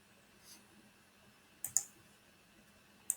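Key presses on a computer keyboard, including the Enter key: a few sharp, close clicks, a quick double tap followed by a single press, over a quiet room.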